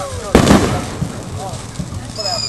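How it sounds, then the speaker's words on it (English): Fireworks going off outdoors during a display, one loud close boom early on followed by smaller distant pops and crackles, with a person's voice murmuring faintly over the night ambience. "it's probably gonna be lots of booms"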